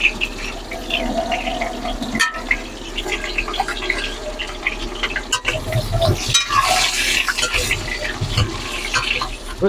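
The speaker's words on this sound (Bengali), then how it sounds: "আমরা আলুগুলো আগে ভেজে নেব।" Potatoes fry on a stove with a steady crackling sizzle, broken by stirring scrapes and clinks and a louder, hissing rush of frying toward the end.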